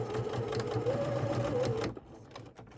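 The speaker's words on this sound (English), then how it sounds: "I back stitched" A sewing machine back stitching a shirt collar band runs in a steady, close whirring burst for about two seconds, then stops, leaving only faint handling noise.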